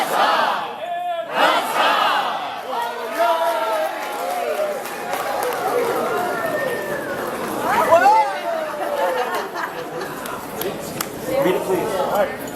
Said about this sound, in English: Hip hip! Huzzah!